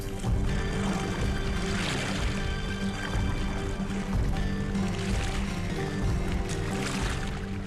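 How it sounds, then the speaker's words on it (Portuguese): Oars of a replica Greek trireme rowing through water: continuous splashing and rushing water with rhythmic swells of strokes, fairly close and steady, no voices. "Cada remador tocava na água num ângulo diferente."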